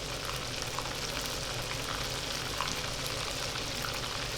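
Steady, dense sizzle of food frying in a pan just after being flipped to brown a golden crust, a continuous close crackle with no talking.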